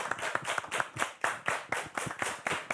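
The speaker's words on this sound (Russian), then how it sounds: "Браво! Ваши аплодисменты!" An audience at an evening song concert in Gomel claps fast and continuously. The applause is fairly quiet and sounds slightly distant.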